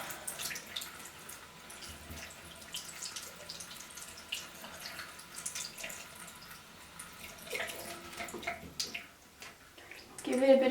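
Makeup brush swirled through water in a basin while being cleaned, giving soft, continuous sloshing and trickling with faint drips, fairly close, brief splashier swirl near the end, no talk over it.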